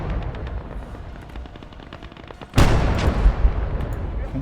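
Heavy automatic gunfire and explosive bursts erupt in a snowy World War combat game battle, loud and dense after a quieter stretch of distant rumbling, with faint talk underneath.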